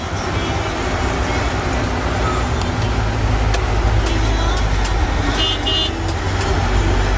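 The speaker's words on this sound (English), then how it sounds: "on the other side of the flank it's traffic jammed" Dense road traffic jammed near the Dankuni toll plaza rumbles continuously close by, with engines droning, a few short horn toots and a faint voice mixed in.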